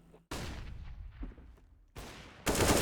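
Unsilenced M4 rifle shots in a professional Counter-Strike: Global Offensive match, several loud, abrupt bursts separated by short gaps, the last one sustained and harsh.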